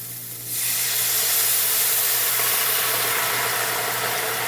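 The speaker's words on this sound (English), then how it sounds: "And you hear that sizzle?" Red wine poured into a hot pan with fried onions after cooking pork chops, bursting into a loud, steady hissing sizzle that starts after a brief moment and continues strongly, no talk.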